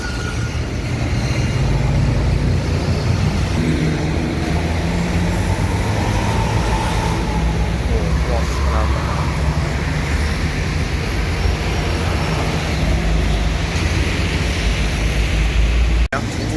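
A packed Putri Riau Agung intercity bus bound from Pekanbaru to Java speeds along the road, making a loud, sustained rushing roar of engine, tyres and wind that ends with a sharp click.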